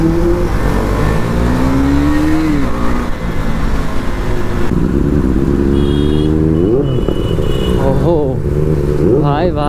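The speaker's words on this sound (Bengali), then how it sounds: "ভাই ভাই সুপার বাইকের থ্রটেল রিয়াকশন প্লাস ভাইবটা তোমরা ম্যাচ করো" A 600cc inline-four superbike revving its throttle, loud close engine note climbing and falling in repeated rising sweeps, with people talking over it.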